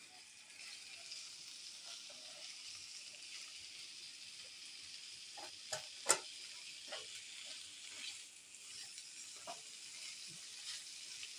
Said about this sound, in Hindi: बस आप इसको हल्का हल्का फ्राई करिएगा